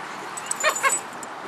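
A dog gives a couple of brief, high whimpers close by, two quick soft cries over a quiet background hiss.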